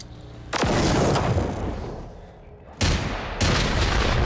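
Pistol gunfire in the shooter Generation Zero: three loud, sharp reports at separate moments, each trailing off into a long, booming echo, with no talk over them.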